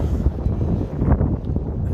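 Gusty wind buffets the microphone in low, rumbling bursts on a cold, damp morning in Glasgow, steady and fairly loud with no voices.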